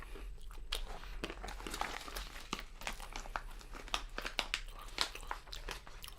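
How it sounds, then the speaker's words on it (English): Nuts being chewed and crunched close to the mic during a vegan mukbang, a dense run of sharp crackling bites and crunches over several seconds with no talking. "if any of you guys are extremely orally sensitive to chewing sounds, I apologize right now"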